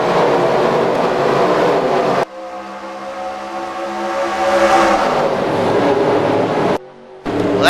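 Race cars roar together at the green flag start at Talladega Superspeedway, a loud, continuous engine drone with rising revs and a couple of abrupt cuts, no voices over it.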